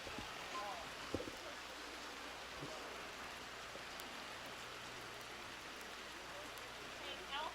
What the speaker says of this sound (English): The rain has picked up substantially now.